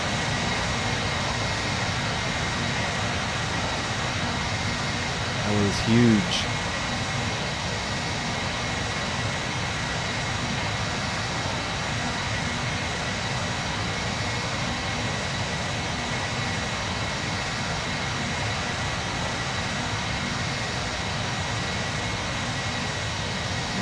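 Jet engines of a QualityWings 757-200 in a flight simulator game, heard from an outside view as a steady, loud broadband roar that holds for the whole stretch, with a brief burst of speech partway through.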